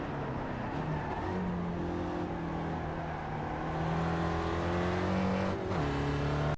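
Spec Racer Ford race car engine in iRacing at Brands Hatch GP, droning steadily at high revs with a sustained harmonic whine, pitch shifting through gears and climbing near the end, loud and alone.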